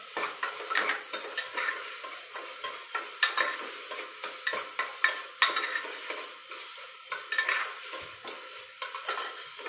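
Vegetables sauté in peanut oil in a pan, a soft sizzle overlaid with repeated rhythmic scrapes and stirs of a spatula, close and clear.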